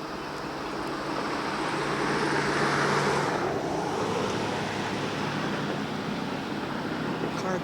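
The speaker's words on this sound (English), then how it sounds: "The car just passed and it shakes this bridge." A car crosses a small bridge over a river, near the remains of an old bridge washed out by a flood. A broad rushing roar swells and fades, blended with steady wind and flowing-water noise, with no talking.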